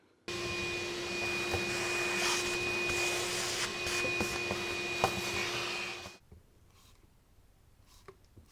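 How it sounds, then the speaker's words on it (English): Vacuum cleaner suction in the hood area of a Porsche 911 during hood strut replacement, a steady close whine running for about six seconds before cutting off, leaving quiet room tone. "You need to vacuum this area a little bit."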